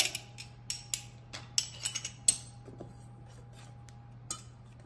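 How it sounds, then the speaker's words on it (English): Whisking dry cookie ingredients, with nutmeg among them, in a bowl for Christmas baking, heard as light, irregular clinks and taps of a whisk against the bowl over a steady low hum. "I'm going to whisk all of that together."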